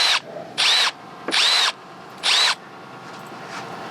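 An old power drill fitted with a screwdriver bit runs in four short whirring bursts separated by brief pauses, close and loud, during cutlass bearing work on a sailboat refit.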